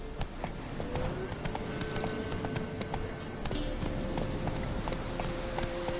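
Horse hooves galloping in The Witcher 3: a steady, fast clip-clop rhythm over constant game ambience and background music, with a brief voice partway through.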